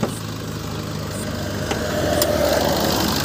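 A Maruti Swift 1.3-litre DDiS diesel engine runs at a steady idle, a close, even mechanical rumble with a faint rattle throughout.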